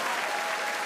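Loud, dense clapping from a comedy show audience, a short burst of sustained applause filling the room evenly with no talking heard.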